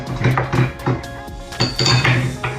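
A utensil scrapes and knocks rhythmically against the inside of a bowl of almond cookie dough, steady stirring strokes with clinks at the end of each pass.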